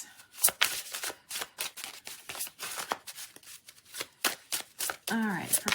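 A deck of oracle cards being shuffled by hand, a run of quick papery riffles and flicks in close bursts, with a brief rustle of handling near the end and no talk.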